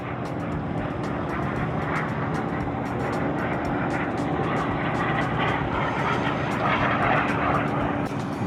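An airplane makes a low flyby over Shirley Chisholm State Park, a former landfill, its engine roar loud, broad and steady across the whole stretch with no talk over it.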